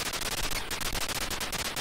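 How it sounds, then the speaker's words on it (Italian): Gunfire in a retro MSX cassette video game: rapid, evenly spaced synthetic shot bursts repeat like a machine gun, loud and continuous for nearly two seconds with no talking. "Però è figo sparare, ragazzi, sentite."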